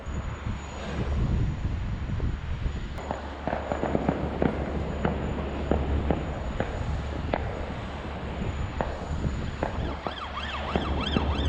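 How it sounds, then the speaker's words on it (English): Bonfire night fireworks heard from above, a steady run of distant bangs and crackles rising over a constant low engine drone, repeating every second or so throughout. "We're above the fireworks."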